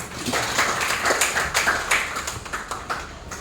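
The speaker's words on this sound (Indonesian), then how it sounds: "kita beri aplaus untuk Sila" A classroom of students claps for a classmate, a brisk burst of scattered hand claps that swells and then thins out, with no talk over it.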